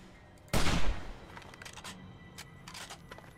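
A sudden loud burst of gunfire in the game 7 Days to Die, a short rattling volley that fades into quieter background noise and faint clicks.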